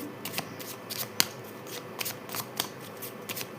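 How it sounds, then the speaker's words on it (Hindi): Tarot cards shuffled and drawn from a deck, a run of crisp papery riffles and flicks with sharp snaps, close and fairly quiet, with no voices. "सो यहाँ से मैं 2 कार्ड्स लेने वाली हूँ आपके लिए।"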